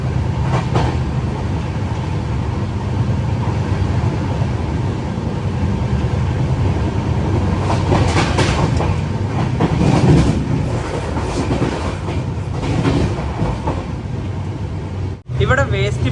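The Saraighat Express runs nonstop on rails between Guwahati and Howrah after leaving Kamakhya. A steady, loud rumble with rhythmic clickety-clack from the wheels is heard from inside the moving coach, with a brief dip near the end.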